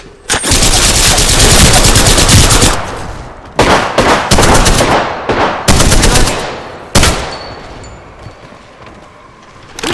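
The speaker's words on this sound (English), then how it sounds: "Getting shot at." Sustained, loud automatic gunfire in the battle royale shooter Apex Legends, long bursts broken by short pauses and sharp single shots, close and dominant with no talk over it.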